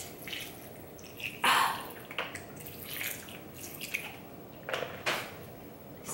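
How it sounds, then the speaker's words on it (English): Meat being washed with vinegar and water in a home kitchen: irregular splashes, drips and wet squishing come close and fairly quiet, with a few louder sloshes. "Get some vinegar to wash. Because you know you're supposed to wash your meat."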